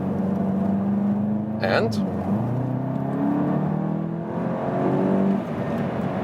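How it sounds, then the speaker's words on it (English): A Volkswagen Golf GTI TCR race car in sport mode accelerates on a track, its engine droning and rising in pitch through gear changes, heard from inside the cabin under a brief word of talk. "track time with the Golf GTI TCR, and we go to the sports mode."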